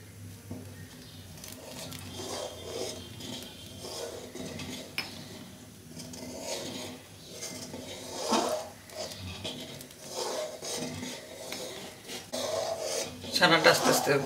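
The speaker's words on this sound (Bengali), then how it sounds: "একদিকে নাড়তে থাকবো আর একদিকে ভিনিগারটা দেবো।" Boiling milk is stirred with a metal utensil in a pot as vinegar is added to curdle it for rasgulla, producing intermittent scraping and clinking amid bubbling, with a person speaking at times over the stirring.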